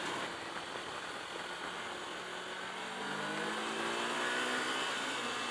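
A 2018 Kawasaki Versys X 300 motorcycle engine holds a high, strained rev under steady wind rush, pitch climbing slightly as it pushes harder, with no talking.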